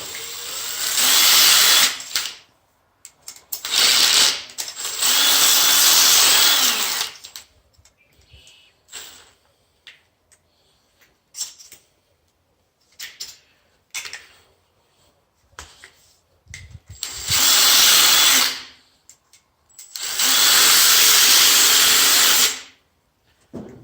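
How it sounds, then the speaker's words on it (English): A power drill with Harbor Freight bits whirs in several loud sustained bursts, alternating with quieter gaps that hold small clicks and handling noises, with no talking. "I guess that's what I get for buying my drill bits at Harbor Freight"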